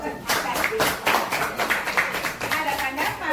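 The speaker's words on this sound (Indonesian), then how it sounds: "Oke, tepuk tangan dulu." Hands clapping in a classroom, with a rapid burst of claps running throughout, fairly close and loud, and talk mixed in among the applause.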